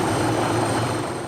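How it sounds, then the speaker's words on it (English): A landing helicopter gives off a steady, loud rotor and engine roar, constant and close, with no talk over it. "within moments, the helicopter lands"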